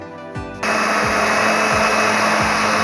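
An electric blender starts up and grinds custard with cream for ice cream, a loud, steady close-up whir with rhythmic dips in pitch as the contents churn.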